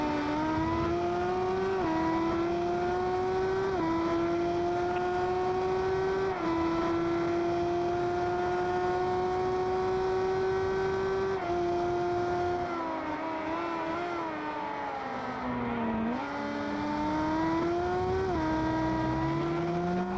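A Renault Megane Trophy race car circuit racing on track, its engine note steadily rising through the gears and dropping with upshifts and braking, loud and close, with no talk.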